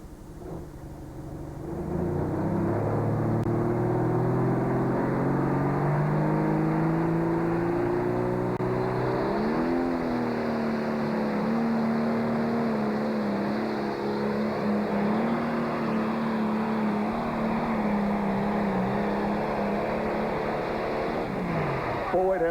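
John Deere pulling tractor at a tractor pull roaring under full load, a loud sustained engine drone that starts suddenly and climbs slowly in pitch across the run before cutting off near the end.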